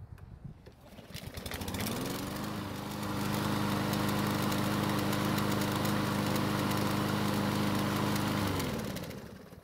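A spring-serviced lawn mower engine fires up after a brief lead-in and settles into a steady, loud running drone that holds for several seconds before cutting off near the end.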